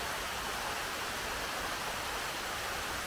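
Waterfall at Ilhabela, Cachoeira da Água Branca, giving a steady, even rush of falling water with no breaks, heard alone without any voices.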